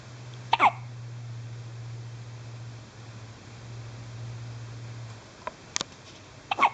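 Close, faint hiccups from a one-day-old newborn: one near the start, then two more several seconds later, over a low steady room hum.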